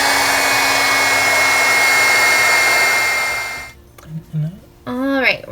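A hair dryer blows steadily and loudly over a Bible journaling page for several seconds, then cuts off abruptly, leaving a short pause before people begin talking.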